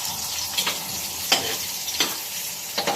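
Garlic and onion sautéing in a pan for chicken sotanghon soup, a steady sizzle broken by a few brief stirring scrapes, close and moderately loud with no talking.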